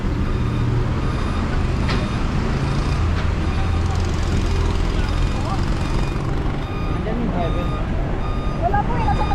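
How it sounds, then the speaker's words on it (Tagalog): A tow truck reverses during an MMDA clearing of illegally parked vehicles on a Navotas street, its warning beeper pulsing under rumbling traffic and idling engines, with voices talking nearby. "Pinagtutow lahat ng mga sasakyan po dito."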